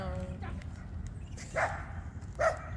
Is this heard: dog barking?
yes